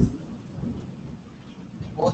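Thunder rumbles through heavy rain during a storm, heard from indoors as a continuous low roll lasting the whole short stretch and swelling slightly at the end, with steady rain noise underneath and no clear speech.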